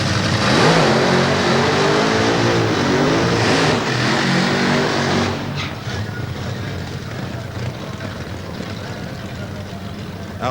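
Drag racing cars at Santa Pod perform burnouts, a loud dense roar of revving engines that rises and wavers for about five seconds, then drops to a lower, rougher engine rumble, with a voice talking over it.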